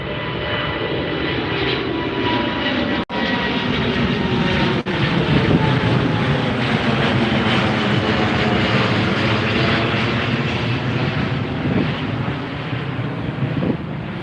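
An airliner takes off at Heathrow Airport with a loud, sustained engine roar that fills the whole stretch, mixed with gusty wind buffeting the microphone and no talking.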